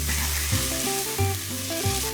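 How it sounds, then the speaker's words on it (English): Bacon sizzles in a pan with caramelised onions and garlic, a steady close frying hiss with occasional stirring, and no voices. "So now we're just going to add in the bacon. Let that get nice and crispy for about 2 to 3 minutes."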